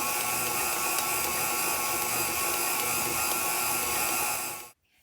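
Stand mixer kneading dough with a dough hook, a steady close whirring motor hum with faint rhythmic mechanical clatter, running continuously before cutting off abruptly at the end.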